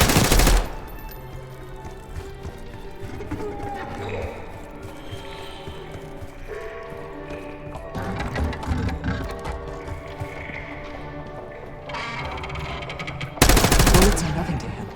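Rapid automatic gunfire in the video game Call of Duty: Black Ops 6, with a loud burst at the start and another near the end, and quieter shots and game effects sounding steadily in between.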